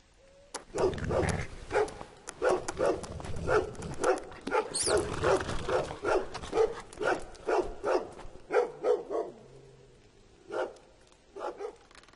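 Dog barking repeatedly in a video game, driving off a wolf: a long run of loud, close, rhythmic barks and yips with brief whimpers, thinning out toward the end.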